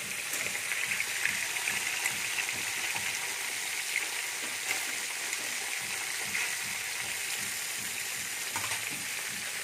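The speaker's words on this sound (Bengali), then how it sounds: "আস্তে আস্তে গ্যাসেতে মাছটা ভাজছে" Rohu fish pieces fry slowly over low gas in a pan, giving a soft, continuous sizzle with faint bubbling crackle at a moderate, even level.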